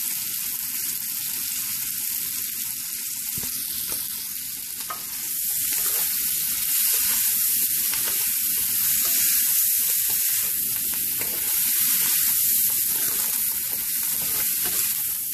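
Shrimp frying with minced garlic in a pan for a satay and garlic sauce, giving a dense, continuous hiss and crackle that swells louder midway and holds steady, close up with no voices.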